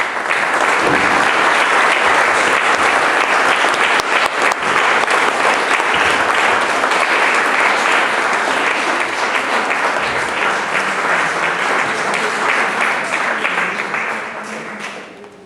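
An audience at a music event in Rome welcomes a teacher with dense, sustained applause that holds strong for about thirteen seconds and then tapers off.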